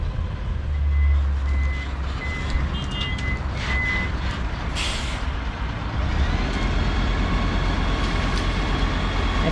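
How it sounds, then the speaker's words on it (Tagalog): A large truck reverses, its backup alarm sounding as a series of evenly spaced beeps over a loud, steady engine rumble with low diesel drone, heard outdoors and fairly close. "Ito na yung truck na malaki."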